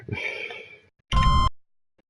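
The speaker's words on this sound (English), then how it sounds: "Beep." Two short electronic beeps in the video game Infinity Runner, the first a longer tone and the second a louder, brighter burst, clear and isolated.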